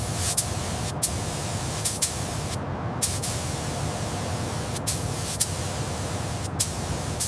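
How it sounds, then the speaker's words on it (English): Deep jungle green spray paint hisses onto a safari jeep model in a steady, continuous close-up stream, broken by a few brief pauses and small clicks. "Spraying the deep jungle green."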